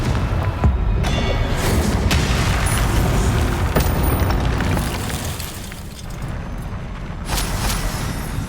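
Repeated booming blasts from the Confringo fire spell in the wizarding game Hogwarts Legacy, loud and dense with crackling debris, a sharp impact around one second and another near four seconds, continuing steadily without voices.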